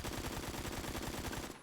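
An AKM assault rifle in Phantom Forces fires a rapid sustained burst of evenly spaced, punchy shots that stops abruptly, close and loud with no talking.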